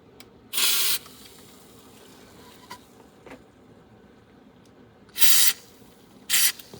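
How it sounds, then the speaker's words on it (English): Contact cleaner is sprayed from an aerosol onto the record switches of a 1976 Aiwa AD6500 cassette deck, heard as three sharp hissing bursts: two short ones and a longer one, close and loud against a quiet background. "let's give those a little bit of contact cleaner"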